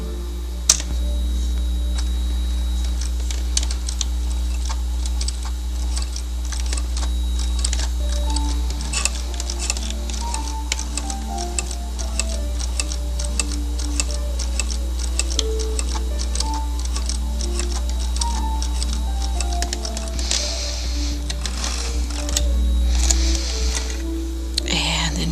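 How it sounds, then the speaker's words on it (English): Sewing machine stitching a garment's shoulder seam, a steady fast mechanical ticking and whirring that runs throughout at moderate level beneath a constant low hum and a speaking voice. "we're going to stitch across the shoulder seam."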